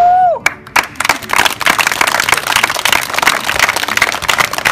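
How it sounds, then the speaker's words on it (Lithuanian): Audience applause at a basketball camp, a burst of clapping from a group that starts after a short voice and continues steadily, moderately close, with some cheering mixed in. "Plojimai, Adrijau."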